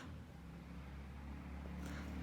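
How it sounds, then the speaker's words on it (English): A motorbike passes by outside a house, heard as a steady, muffled low engine rumble that holds for the whole moment without any sharp peaks. "sorry about the motorbike going past"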